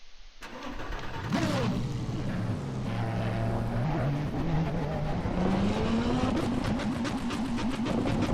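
Race cars in Assetto Corsa roar off from a double-file start, engines droning loudly and continuously with pitch climbing as they accelerate, a brief sharp start at the beginning and no talk.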